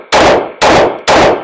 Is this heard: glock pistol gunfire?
yes